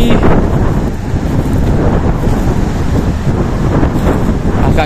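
Strong wind buffets the microphone on the south sea coast, a loud, constant rumbling roar that masks the big waves behind it, with no clear voices.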